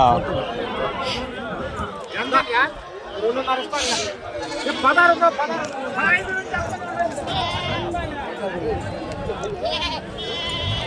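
Goats and sheep at a busy livestock market bleat repeatedly and loudly, several animals calling close by over a constant din of people chatting and talking.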